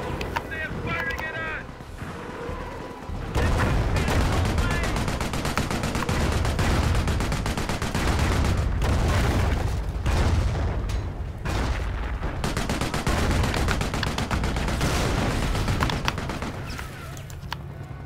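Dense, continuous battle din from Company of Heroes: Opposing Fronts, a WWII strategy game: sustained gunfire and rattling bursts with booming impacts that run nearly the whole time, loud and steady after a short quieter opening.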